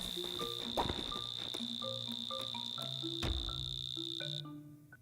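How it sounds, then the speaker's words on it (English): Crickets chirp in the Cult of the Lamb video game, a steady high insect trill over scattered game tones and beeps, cutting off near the end. "Are there like zombie crickets that are chirping?"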